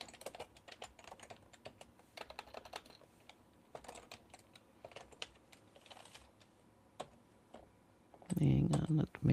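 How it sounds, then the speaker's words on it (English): Rapid, uneven keystrokes clatter on a computer keyboard during a late-night screenwriting session, quiet and close, with a louder low burst of sound at the very end. "Who are these characters you're typing in?"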